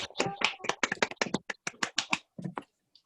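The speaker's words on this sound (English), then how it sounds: "Give him a big round of applause." Scattered clapping over a Zoom call for guest chef Tim at a cooking club, a quick run of sharp, close individual claps that thins out and stops near the end.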